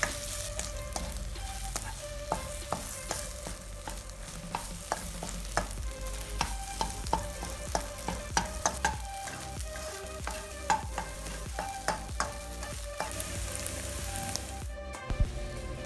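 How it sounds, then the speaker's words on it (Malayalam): Egg fries in a teaspoon of oil in a pan, a continuous close sizzle dotted with regular scraping clicks of stirring and light spattering pops, with no voices. "എന്നിട്ട് അതിലേക്ക് ഈ മുട്ട ഒഴിച്ചിട്ട് ഒന്ന് ഡ്രൈ ആക്കി എടുക്കുക"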